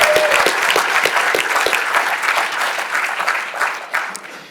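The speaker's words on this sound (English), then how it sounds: "So just a brief round of applause for Holger" A brief round of applause from the audience at a press freedom panel, loud clapping with a few distinct sharp claps at the start that then blends into a steady wash and tapers off.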